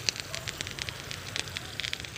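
Dahlia plants grown for the Tet season being watered, a steady soft patter and crackle of water spraying onto foliage and soil, continuous and close with no talk over it.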